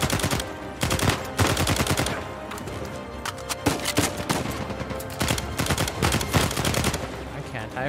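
Gunfire in the game Uncharted 4, with rapid bursts of sharp, loud shots arriving in clusters over about eight seconds and short gaps between volleys.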